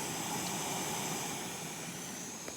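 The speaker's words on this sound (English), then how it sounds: "And here's my cook kit. It's a jet boil." A Jetboil camping stove burns with a steady, even hiss and soft roar, heard close up and alone at a campsite along a backcountry hiking trail.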